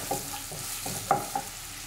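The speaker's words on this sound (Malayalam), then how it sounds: "ഇനി സവാള ഒരു ലൈറ്റ് ഗോൾഡൻ ഷെയ്ഡ് ആവണ വരെ നമുക്ക് നല്ല പോലെ ഒന്ന് വഴറ്റിയെടുക്കണം." Sliced onions sautéing in a pan for a kurma, a steady frying sizzle with a few soft spoon scrapes and stirs, close and alone.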